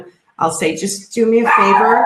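A pet dog barks repeatedly indoors, several sharp, close barks and yips in quick succession, overlapping a person talking.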